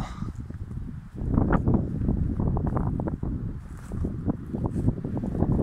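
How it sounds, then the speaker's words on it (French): Wind gusting outdoors around a homemade G4ZU 11 m antenna, a steady low rumbling buffet against the microphone with irregular gusts throughout, moderately loud, no voices. "Il y a un peu de vent par contre, hein."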